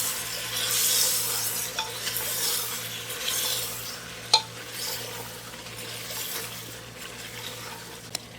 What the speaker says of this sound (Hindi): इसको अच्छी तरह से हम भून लेंगे।